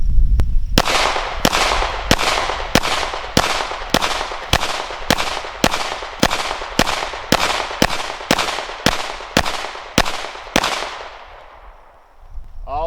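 A Springfield Armory XDM 9mm pistol fires about fifteen evenly spaced shots at a target, loud and close, each crack sharp with a brief ringing tail, followed by a quiet pause and a faint metallic rattle.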